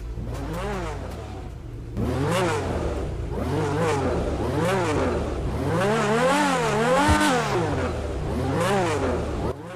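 Lampadati Tigon sports car engine in GTA V Online revving repeatedly in loud, rising and falling surges, close and alone with no talk.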